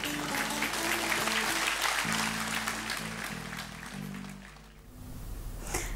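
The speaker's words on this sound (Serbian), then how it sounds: "Pozdravimo sada naše devojke jednim velikim aplauzom." Audience applause at a beauty pageant for young women contestants, sustained clapping filling the room for several seconds before fading, with a host's voice over it.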